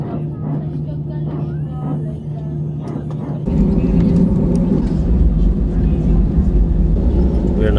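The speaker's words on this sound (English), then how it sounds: "We're now taxiing for departure" Steady engine hum of an Edelweiss Air airliner taxiing for departure at Zurich, heard from the cabin, with a low tone that swells louder partway through. A voice talks over it.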